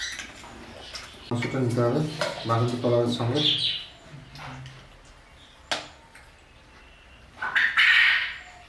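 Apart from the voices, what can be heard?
bird calling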